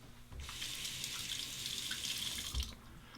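A razor being rinsed under a running bathroom tap, a steady close splash of water streaming for about two and a half seconds, with a knock at the end as the flow stops.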